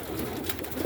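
Roller pigeons in a loft give a soft, low cooing murmur, continuous and close, fairly faint, with no talk.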